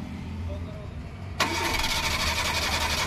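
A Maruti Eeco van running on gas, starting late in rainy weather: quiet background until the engine suddenly catches and settles into a loud, steady running note, close by.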